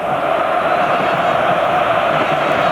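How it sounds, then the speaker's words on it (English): Greek football stadium crowd during a 1998 World Cup qualifier against Denmark, a steady, dense roar and murmur of frustrated spectators filling the space at constant loudness, with no distinct chants or voices standing out. "the Greek crowd are getting a bit frustrated."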